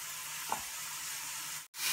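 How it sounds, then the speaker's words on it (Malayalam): Onions sautéing in a frying pan, a steady close sizzle with one brief scrape of stirring, then a short drop in sound before the frying returns. "നമുക്ക് ഇത് ഇളക്കി വഴറ്റിയെടുക്കാം."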